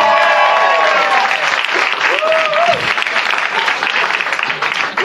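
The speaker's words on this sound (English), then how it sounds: "Clap for Margie," Comedy club crowd clapping at a stand-up show, loud and continuous applause filling the room, with a speaking voice and some cheering rising over it early on.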